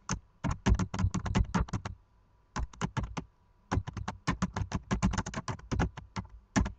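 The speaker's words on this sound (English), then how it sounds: "Then you type in the city and state" Close, crisp typing on a computer keyboard while entering a city and state, quick bursts of clacking keystrokes separated by short pauses, alone with no talking.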